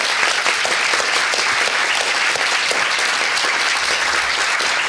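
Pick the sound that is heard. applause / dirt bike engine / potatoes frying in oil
applause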